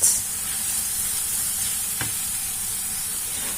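Onion filling for msemen cooks in a pan, a steady soft sizzle of frying running throughout with one brief stirring scrape near the middle, close and moderately quiet, with no voices.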